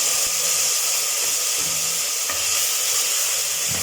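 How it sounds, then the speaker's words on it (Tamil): Tomatoes hitting onions sautéing in a pan for Tamil-style chicken salna, giving a steady, loud sizzle and hiss of frying that holds throughout, with light stirring scrapes underneath. "இப்போ நம்ம தக்காளி ஆட் பண்ணிக்கலாம்."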